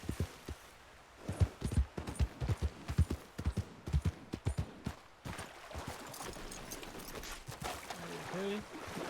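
A horse gallops in Red Dead Redemption 2, its hooves beating out a quick, steady rhythm for several seconds before giving way to softer ambient noise.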